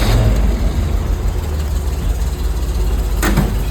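A 1969 Chevy C30 oil-field truck engine running loud and close, a rough, steady idle that fills the whole stretch with a brief lift in revs near the end.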